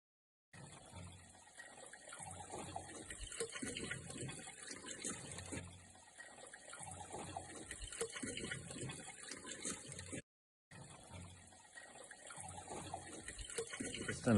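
Filter flush water from a greywater system pours and splashes steadily into the basin, close and continuous, breaking off briefly before resuming.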